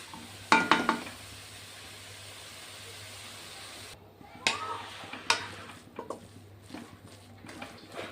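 Pumpkin mixture frying in ghee in a pan is stirred and turned, a soft steady sizzle underneath intermittent scraping and clinking strokes of the spoon against the pan, with a low hum in the background.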